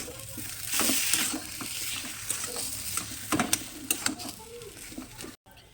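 Bread chop filling with Maggi masala and chopped coriander is stirred in a hot pan, sizzling steadily. Scraping and clacking strokes of the spatula come close up, denser toward the end.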